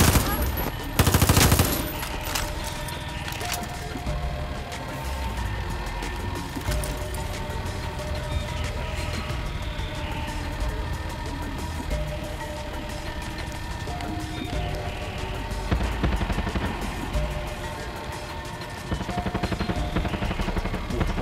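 Gunfire in the video game Far Cry 6 rattles in rapid automatic bursts and scattered shots throughout, mid-distance and fairly loud, with a loud burst near the start and vehicle-like rumble underneath.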